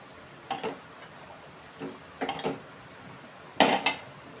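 Cooked pumpkin flower bhaji being spooned from a pan into a bowl: four short clusters of close metallic scrapes and clinks, the last one loudest, separated by quiet pauses.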